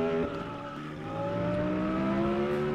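Car engine in the Roblox game Vehicle Simulator, a steady droning hum with a slowly rising pitch, loud and continuous throughout.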